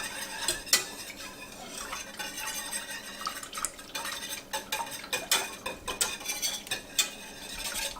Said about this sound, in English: we are going to mix those in our saucepan until they're combined